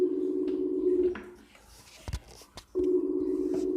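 A telephone on a call gives a loud, buzzing ringback tone in two long bursts with a quiet gap between them, and faint voices can be heard in the background.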